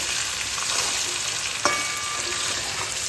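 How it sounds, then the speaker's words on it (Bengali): Chopped potatoes and tomatoes frying in oil together with chicken for a cabbage chicken dish, a close, steady crackling sizzle with a brief clink of stirring midway, no voices. "এইবার এর মধ্যে আমি দিয়ে দেবো 3টে আলু কুচিয়ে রেখেছে, 2টো টমেটো, এটার মধ্যে ভেজে নেব"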